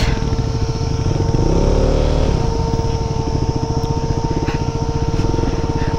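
Motorcycle engines droning steadily on a mountain road between Pokhara and Manang, a loud continuous near rumble with a rising rev partway through.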